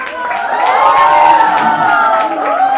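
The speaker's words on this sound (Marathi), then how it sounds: "जोरदार टाळ्या वाजवूया" Crowd at a television serial launch event cheering and whooping for the director, loud and sustained, with shouts and scattered clapping filling the room.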